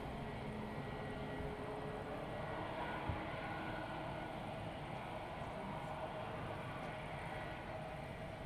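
An EasyJet airliner lines up on runway 05 at Madeira Island Airport in strong wind, giving a faint, steady engine drone with a broad rumble that holds level throughout.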